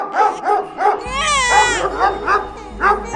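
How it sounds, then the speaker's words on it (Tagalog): Several dogs bark loudly and repeatedly in a quick rhythm, close by, with a high whining yelp rising in the middle. "tumahol ng malakas din ang mga aso."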